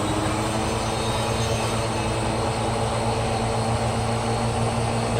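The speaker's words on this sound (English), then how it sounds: "let's turn the brush roll on" A Miele Jazz S7280 vacuum cleaner runs with its brush roll engaged, giving a loud, steady motor whine with a low hum underneath that holds unchanged throughout, with no talking.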